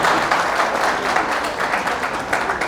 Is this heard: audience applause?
yes